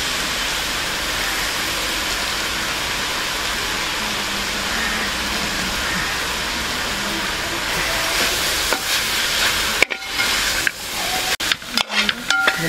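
Pepper chicken frying in a pan, a steady loud sizzle and hiss throughout, with scraping stirring strokes and clatters of the spoon against the pan toward the end.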